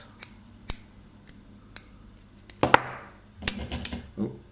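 Scissors snipping excess thread at a fly-tying vise while tying a pike fly, a few sharp close clicks and a crisp cut amid light handling noise.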